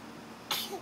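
One short, sharp sneeze bursts out suddenly after a quiet, faint background and ends with a small trailing breath.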